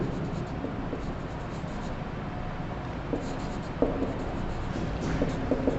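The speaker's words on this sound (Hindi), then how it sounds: "तो यहाँ पर लिखते हैं" Chalk or marker scratching across a board during a maths lesson on straight lines, steady light strokes with a few sharper taps, heard close and alone without talk.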